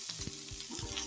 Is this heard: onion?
yes